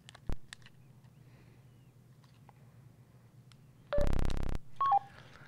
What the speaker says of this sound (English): this radio, after I programmed it on my computer, just sent my information out to that repeater